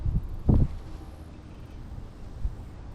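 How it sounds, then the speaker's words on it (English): Wind gusts buffet a microphone outdoors on the water during a hot-day fishing trip, making a low, rumbling roar with a few sharper thumps and rustles over the constant blustery noise. "let's get out of this wind"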